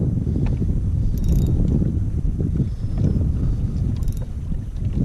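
A spinning fishing reel with 9 ball bearings and Gosen line turns steadily outdoors while sea fishing, a low continuous mechanical whirr under strong wind buffeting the microphone.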